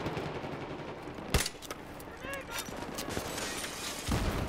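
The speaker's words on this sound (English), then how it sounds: "It lobs a frag instead of actually firing a 320." A grenade launcher in a video game lobs a frag grenade with one sharp, punchy bang that rings out, followed by scattered crackling gunfire and a trailing tail of game noise.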